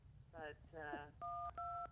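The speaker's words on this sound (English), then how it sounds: "Oh, somebody's making a phone call." A telephone is being dialed during a call. Two short touch-tone beeps come at the end, following a pair of brief tonal sounds that may be voices, all fairly faint and close.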